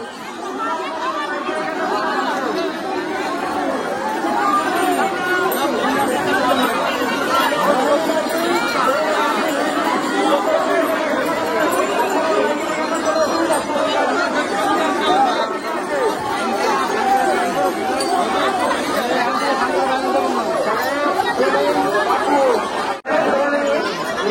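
A dense crowd of pilgrims at a river ghat during the Tarakeswar Yatra makes a continuous loud babble of many overlapping voices, steady and close all around.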